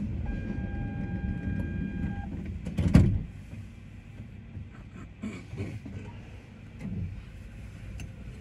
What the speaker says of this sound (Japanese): ドア閉まります。